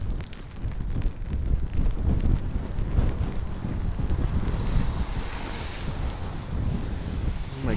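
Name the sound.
wind blowing on a rainy street walk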